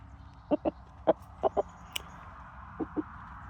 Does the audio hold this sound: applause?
no